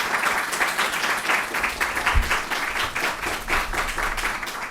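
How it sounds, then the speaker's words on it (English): Sustained, even applause from an audience thanking panelists after a presentation on students' rights, a dense wash of many hands clapping with no talk over it. "applause."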